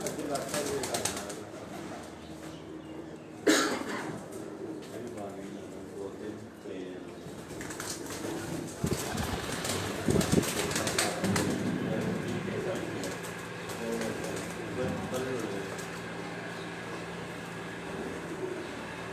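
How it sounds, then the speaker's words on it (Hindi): Breeder pigeons of a core commander breed coo and flap on a rooftop loft, a steady murmur of cooing with bursts of wing flapping, while someone talks nearby throughout. "ये जितने भी कबूतर आप देखते हैं"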